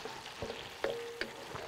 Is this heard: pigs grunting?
no